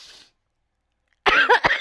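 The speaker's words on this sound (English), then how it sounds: "I've been experiencing for this coughing for almost 3 weeks now" A single cough bursts out close and loud after a moment of silence, following a faint trailing sound, from someone who has had a lingering cough for weeks.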